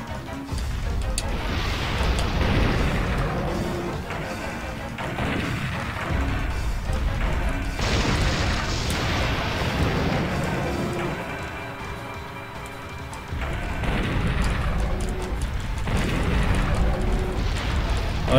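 A tank fires in the video game Dino Crisis 2, loud heavy blasts bursting out every few seconds over a constant rumbling, explosive background that never drops to silence.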